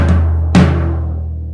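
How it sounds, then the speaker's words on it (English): A resonant drum on a kit is struck twice, about half a second apart, and each close, punchy hit fades into a long, low ring. "then you're gonna wanna hit this drum four times, so it'll sound like this"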